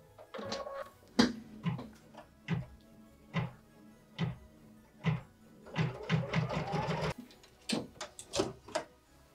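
A sewing machine stitches roof placement lines on quilt fabric for a Christmas mini quilt, running in short mechanical bursts with pauses between, then a longer steady run of rapid needle clatter; close and clear with no talking.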